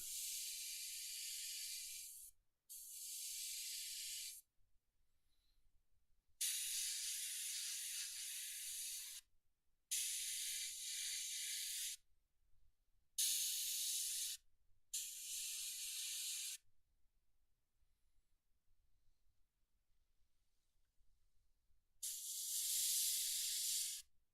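An airbrush sprays purple paint onto a miniature in a series of short, even hissing bursts separated by silent pauses, close and clear with no talking.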